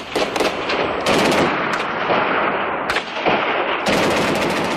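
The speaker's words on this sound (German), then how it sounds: "mit einem Maschinengewehr." Loud, close machine gun fire in sustained bursts, with brief gaps between them, from a border firefight involving Iranian reinforcements, heard alone without speech.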